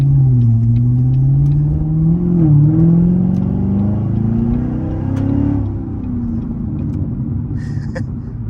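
A Corvette C7 Z51 with secondary cats and muffler deleted, driven slowly at low RPM; a loud, steady deep exhaust rumble with gentle rises and falls in pitch, close and continuous.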